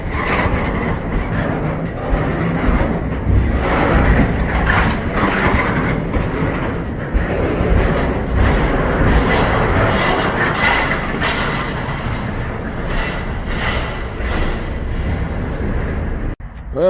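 A long freight train rumbles past nearby out of a rail yard in Roanoke, a loud continuous roll of wheels and cars clattering on the rails.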